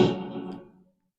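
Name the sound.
synth stab, melodic element of a techno track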